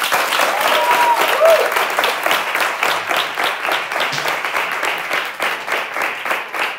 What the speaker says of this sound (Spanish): un aplauso para Paula Blas.